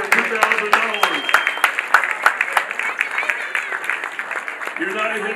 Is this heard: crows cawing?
no